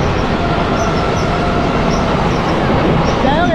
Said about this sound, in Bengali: ও এর সাথে একটা লোকাল ট্রেনের ক্রসিং।